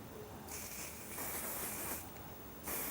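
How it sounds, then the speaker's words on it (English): Hairspray hisses from an aerosol can in two bursts, a long spray then a shorter one, while an African-style turban is being set, close and fairly loud over a steady background hiss. "Just get your hairspray, turn to the front gently."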